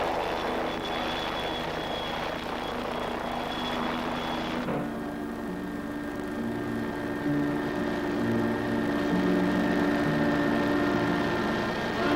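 PAH-1 combat helicopters fly forward with a steady droning engine and rotor hum, fairly faint and continuous, with a pitch shift partway through, and no talk.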